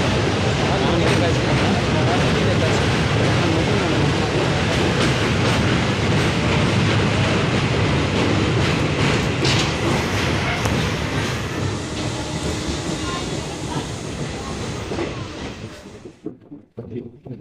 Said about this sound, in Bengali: পরিবেশ সুরক্ষার জন্য এখানে ট্রেনও খুব আস্তে আস্তে চলে